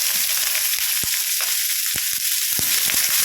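Finely chopped onion and three green chillies frying in oil with ginger and garlic for potato podimas: a loud, steady, hissing sizzle, punctuated by a few sharp clicks of a spoon against the pan.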